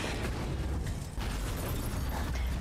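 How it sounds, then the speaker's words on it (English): Explosions from the video game Devil May Cry 5 form a dense, loud, continuous roar of overlapping booms and bursts, with no break through the whole stretch. "Explosions, literally, just for fun."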